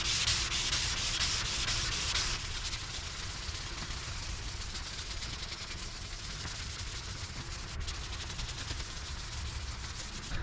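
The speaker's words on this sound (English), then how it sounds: "Let's just go ahead and wet sand this thing" Car bodywork is wet sanded by hand in steady back-and-forth strokes, a dense close rasping hiss that runs continuously, slightly louder at the start and then even, with no voices.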